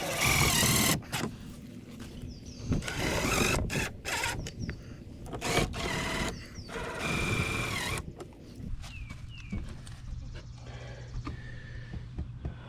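Deck screws being driven into a plastic playhouse, repeated bursts of a power driver whirring, then stopping, in several runs over quiet gaps, close and fairly loud, with no talking.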